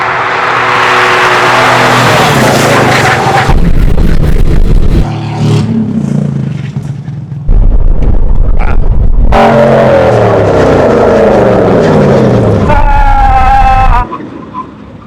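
Aston Martin GT4 racing cars launching in a drag race, engines loud and close, roaring through rising gear changes with abrupt cuts and shifts, voices sometimes speaking over the noise.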